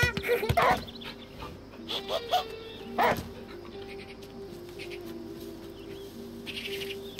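A dog in the video game Last Day of June barks in a few sharp bursts near the start, with a person talking briefly and faint bird chirps behind.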